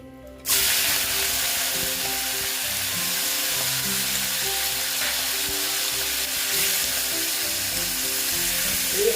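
Tangra fish sizzle and crackle steadily in hot oil after salt is added, a loud, continuous frying hiss that starts abruptly and carries on without a break and with no talking.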